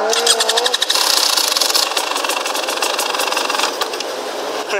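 A KTM EXC 300 two-stroke dirt bike that has sat unused for a while fires up, bursting into a loud, raspy, rapidly pulsing engine buzz close by that holds steady and then flutters slightly toward the end.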